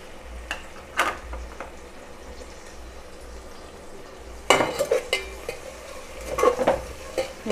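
Onions, green chillies and tomato fry in a pan for chicken biryani while a spoon stirs them, a low sizzle under clattering scrapes that turn louder and busier halfway through, close by with no voices.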